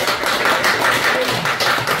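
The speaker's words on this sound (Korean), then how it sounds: "박수 부탁드립니다" Audience applause at a poetry recital just before an accordion performance, a dense steady patter of many hands clapping close by, continuous for the whole stretch.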